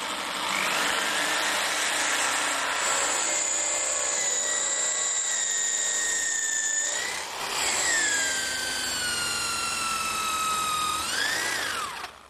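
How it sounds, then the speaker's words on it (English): A drill bores through a hard 4130 chrome moly steel bushing, giving a loud, sustained high-pitched whine and screech that shifts in pitch, dips briefly midway, then rises again before stopping. "This is very, very hard stuff to drill through because it's chrome moly"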